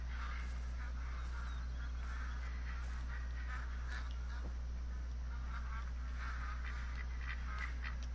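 Ducks quacking in the Call of the Wild hunting game on a New Zealand map, a scattered run of repeated quacks and honks at moderate distance over a steady low ambient hum, with no talk.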